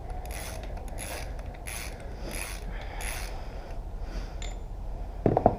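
Wrench working the bottom bolt of an SSR 125cc pitbike USD fork, with a repeated rhythmic ratcheting and scraping, close and moderately loud, ending in a short metallic clink.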